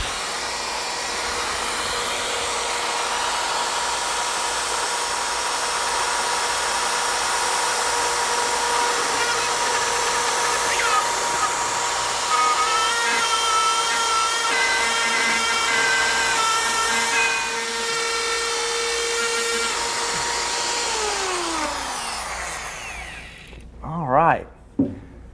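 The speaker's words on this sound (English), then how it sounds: "We're going to make an 8-inch hole here, so I've got it set on 8." Power tool fitted with a circular hole-cutting attachment set to cut an 8-inch hole, giving a steady loud whine with some grinding and rattling. It runs for about 23 seconds and then winds down and stops.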